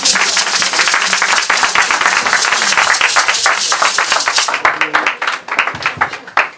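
A crowd at a church concert applauds and cheers, dense sustained clapping that fills the space and then thins out toward the end.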